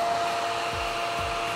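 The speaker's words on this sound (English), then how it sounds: "put one of those right above our hairdryer" A hair dryer blows with a steady, close, rushing whoosh throughout, nothing else heard over it.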